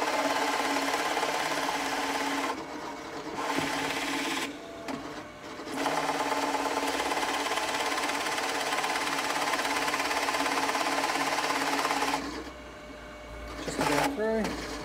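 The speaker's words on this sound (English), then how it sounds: "I'm using the 38mm Forstner bit here to do this hole." A 38mm Forstner bit boring a hole through wood for a wood float handle, a steady close drill whine that pauses briefly twice before breaking through, with speech over it.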